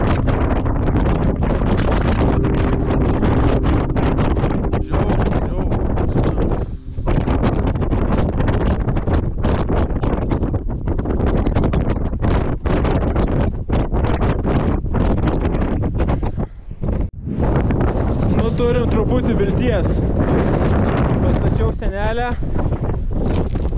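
Strong, gusting wind batters a tent outdoors and roars across the microphone almost without pause. Brief lulls break the wind now and then, and a voice speaks under the noise.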